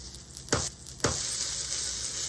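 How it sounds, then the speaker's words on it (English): A sardine quesadilla sizzles steadily in a hot frying pan, with a continuous crackling hiss and two sharp bursts where the pan or food is shifted. "Because of that, it's gotta sizzle."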